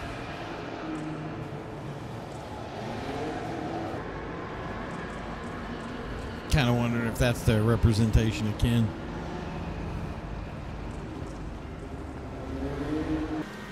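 A game Eclipse at the GTA LS Car Meet lets out a burst of popping, crackling exhaust for a couple of seconds over a low engine hum and background din, with someone talking before it.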